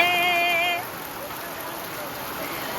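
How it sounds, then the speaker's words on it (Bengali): Heavy rain falls in a steady, dense hiss that carries on without a break, with a brief tonal sound at the very start before it settles. "বেশি বৃষ্টি হচ্ছে"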